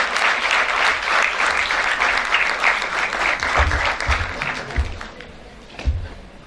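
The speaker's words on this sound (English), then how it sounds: "Please give a huge round of applause for her" Loud crowd applause at a Model United Nations conference ceremony, dense continuous clapping close and full at first, tapering off with a few low thumps as it dies down.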